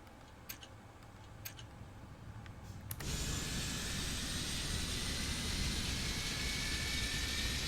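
Rolls-Royce engines on a Boeing 777 spool up in a flight simulator, a broad steady jet roar surging in abruptly after quiet cockpit ticks and then holding loud and even.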